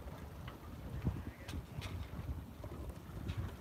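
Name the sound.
boat passing by on the bay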